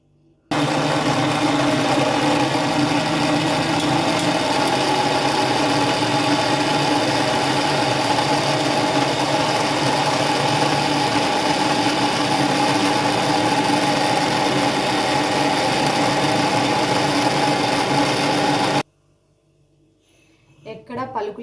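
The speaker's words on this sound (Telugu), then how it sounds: "మిక్సీ కొట్టుకుందాము." A mixer grinder whirs continuously for about eighteen seconds, grinding masala paste for a mushroom curry, a loud steady motor drone that stops abruptly before brief trailing sounds.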